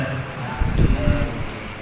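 Steady rain falls in the background as a broad, even hiss, with a short rumble of louder sound in the middle.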